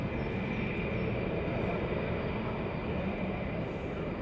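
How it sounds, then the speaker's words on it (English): Distant jet aircraft noise from Birmingham carries across the airfield near RAF Lakenheath as a steady, broad, unbroken rumbling roar with no talk over it. "Jet noise from Birmingham."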